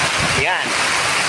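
Heavy rain during Typhoon Enteng in the Philippines, a loud, dense, continuous roar of downpour with someone speaking briefly over it.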